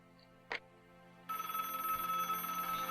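A telephone rings in the Broken Sword adventure game, an electronic ring that starts after a short click and then rings on continuously and clearly, with no talk.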